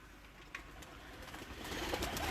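Paired pigeons cooing on a rooftop loft, soft and somewhat distant over a steady background hiss that builds slightly toward the end.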